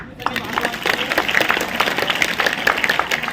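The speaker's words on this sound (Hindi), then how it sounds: "जोरदार तालियां बेटा।" A crowd applauds steadily with dense, continuous clapping throughout, moderately loud and sustained.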